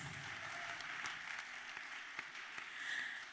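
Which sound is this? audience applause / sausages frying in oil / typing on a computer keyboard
audience applause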